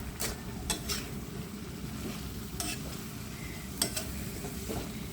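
Squid adobo with pork belly being stirred in a pan, a spoon scraping and clinking in a few short strokes over a steady low simmering sizzle, close and fairly quiet.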